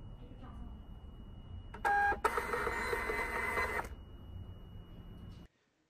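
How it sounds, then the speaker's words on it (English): A shipping-label printer runs for about two seconds, a loud steady mechanical whir preceded by a short burst, heard close up under a faint background hum before falling silent. "a label will be instantaneously printed from the designated printer."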